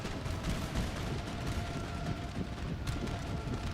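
A musket line volley in Empire: Total War, heard as dense, rumbling massed fire rolling continuously and loud across the battlefield without clear separate shots.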